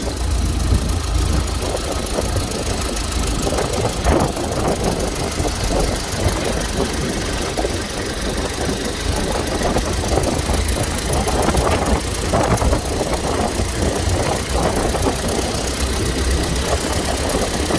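A 1915 Ford brass Model T engine runs close by, producing a loud, steady, rattling chug that holds evenly for the whole stretch without any talk.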